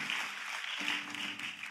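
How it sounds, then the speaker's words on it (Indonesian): A church congregation applauds for Ado and Pastor Andrew, with a dense, steady patter of many hands clapping throughout, heard somewhat distant and soft. "Kita boleh kasih tepuk tangan untuk Ado dan Pastor Andrew."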